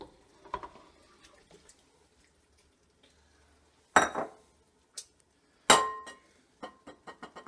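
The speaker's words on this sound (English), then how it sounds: "And then you want to put in the tomatoes." Fresh tomatoes drop into a cooking pot for homemade sauce, making a few sharp, spaced knocks and clinks against the metal, close by in an otherwise quiet kitchen.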